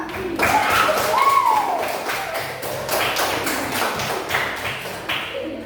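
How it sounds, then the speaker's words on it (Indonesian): Classroom listeners give a round of hand claps, a rapid, fairly even tapping rhythm that continues for several seconds at moderate loudness, with a voice briefly heard early on. "silakan tepuk tangan"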